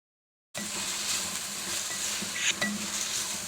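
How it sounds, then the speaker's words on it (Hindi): Sliced onions sautéing in a pan for a black pepper chicken karahi, a steady soft sizzle with faint clinks of a stirring utensil against the pan, close and continuous. "प्याज को अच्छी तरह सौते करना है"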